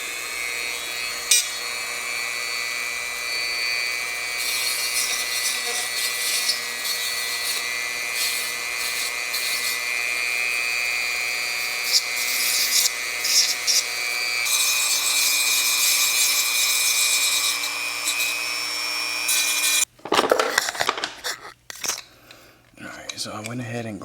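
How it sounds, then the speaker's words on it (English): A small rotary tool whines steadily while grinding down a homemade dental retainer, its pitch shifting as pressure changes, with a burst of clattering handling noise toward the end. "So I went ahead and grinded some off."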